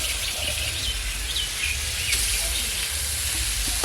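Grated coconut and date-palm jaggery sizzling in a wok in a village kitchen, a steady close frying hiss with faint bird calls chirping in the background.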